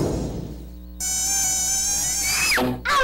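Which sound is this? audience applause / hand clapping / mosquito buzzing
mosquito buzzing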